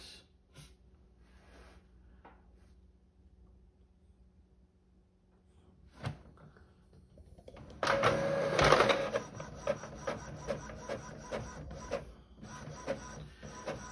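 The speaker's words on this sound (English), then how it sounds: "I'm just choosing my Epson 2800 printer. I'm going to press print." A quiet stretch with a few faint clicks, then an Epson 2800 inkjet printer, being set up for sublimation printing, starts up loudly, whirring with rapid, repeated mechanical clatter as it prints.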